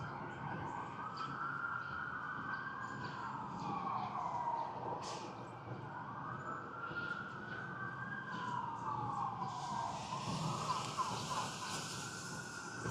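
Police sirens wail through downtown Los Angeles during a protest, rising and falling in slow repeated sweeps at a distance over steady city rumble.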